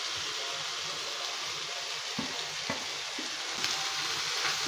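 Flaked fish cooks in a pan with a continuous bright sizzle and bubbling, close and even, with a few soft knocks of a utensil scattered through.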